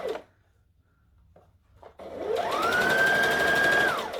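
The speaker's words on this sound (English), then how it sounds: "So we're just going to keep bringing it around and stitch it down so it's out of the way." A sewing machine stitches down fabric on a Halloween costume neckline, starting after a couple of seconds of near silence with a steady rising whir that holds at speed before slowing to a stop, close and fairly loud.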